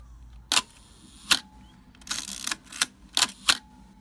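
A Nikkorex F camera shutter fires repeatedly on the test bench, with sharp mechanical clacks at irregular intervals and one longer whirring release in the middle, close and clear in a quiet room.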